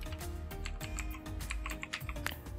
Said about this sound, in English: just simply type the next commands